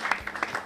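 Brief burst of audience applause for a DJ during a comedy talk show, steady dense clapping from a crowd at moderate loudness with no voices over it.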